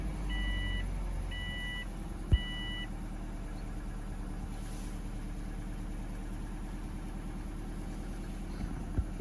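A Subaru Forester XT engine idles steadily after a restart following MAF sensor cleaning with CRC cleaner, a low even hum with a few short electronic beeps early on and faint clicks, no talking.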